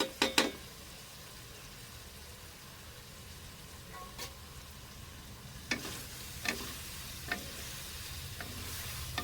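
Chicken fries in a pan with onion and capsicum for jalfrezi: a quiet, steady sizzle broken by several sharp spoon scrapes and clinks, most of them bunched at the start and a few spaced later.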